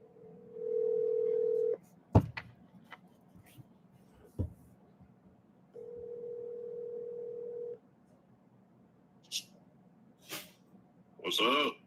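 A telephone dial tone sounds twice in steady, sustained bursts during a phone call, broken by a few short clicks and faint noises, with a brief voice near the end.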